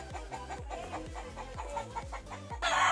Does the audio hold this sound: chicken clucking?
yes